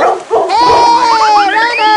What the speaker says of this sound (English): Segwala, see doggo.